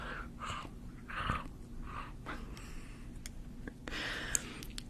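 A person makes mouth sounds imitating a dinosaur chewing, close and soft, with wet smacking and breathy bursts repeating irregularly over a low steady hum.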